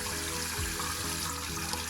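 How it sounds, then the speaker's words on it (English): Tap water runs into a sink, warming to a medium temperature; a steady, close-up rushing and splashing flow continues throughout. "Then I run the tap water till it's kind of medium warm, not hot."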